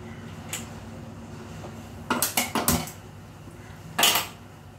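A wok and pans are handled on a home stove, with one light clink, then a quick cluster of five or six metallic knocks and scrapes, and later a single louder clang against a quiet background.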